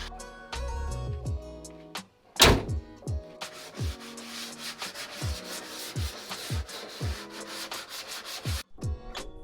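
Sandpaper rasps against the cut metal edges of a van's window opening on a Ram ProMaster in repeated back-and-forth strokes, close and steady, with a sharp knock partway through.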